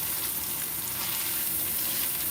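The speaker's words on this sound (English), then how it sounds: "Basically frying this up." Squash coated in a curry mixture fries in a pan with a steady, dense sizzle that holds at an even level throughout, close up and with no voices.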